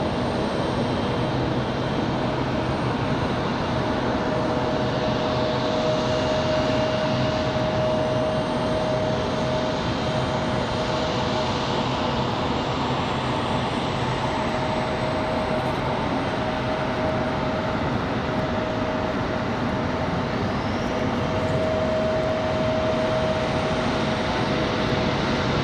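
JetBlue Airbus A220 jet departing Raleigh-Durham International toward Boston, a loud sustained roar of engine noise with a steady whining tone throughout, heard from the airport without talk.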